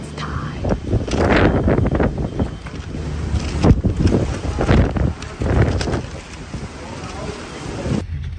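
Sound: wind blowing in Chicago

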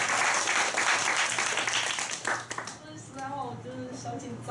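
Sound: applause

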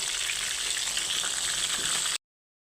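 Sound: pointed gourd frying in oil with salt and turmeric

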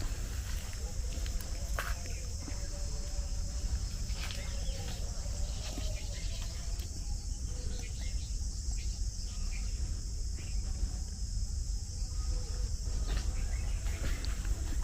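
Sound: crickets chirping by a riverbank

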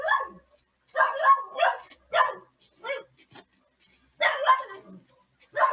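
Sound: dog barking

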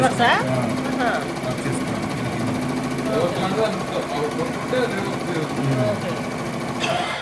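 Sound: sewing machine stitching cloth

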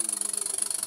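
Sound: Anton six-cylinder V marine steam engine running

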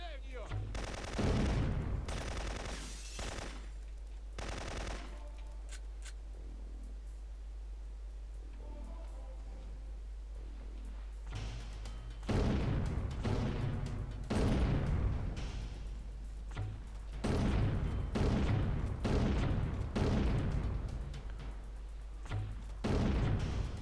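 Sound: gunfire from the video game Syphon Filter 2

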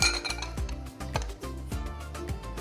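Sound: drink poured through strainer over ice into glass

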